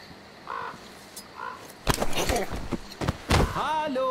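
A crow in the video game Metro Exodus caws twice, brief harsh calls, followed by louder thumps and clattering game noises and a short rising tonal effect near the end.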